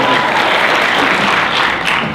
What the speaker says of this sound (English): No applause for attorneys?